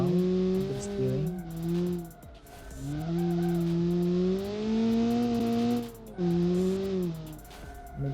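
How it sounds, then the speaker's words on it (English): A 1987 hot hatchback with a 160-horsepower engine accelerates hard, its engine note climbing steadily in pitch, with brief drops between pulls as the revs fall and rise again, loud and close. "the engine really pulls strong"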